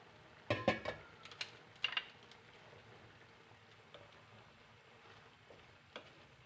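Chicken liver frying in a pan for adobo with bitter melon: a few sharp clatters and sizzling bursts near the start, then a low, steady hiss.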